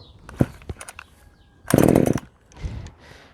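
A Parkside PBBPS 700 A1 petrol pole chainsaw is pulled and its engine catches, roaring loudly for about a second before dropping back, with a few sharp knocks and clatters around it.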